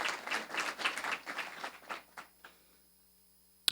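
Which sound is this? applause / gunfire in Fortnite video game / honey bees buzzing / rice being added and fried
applause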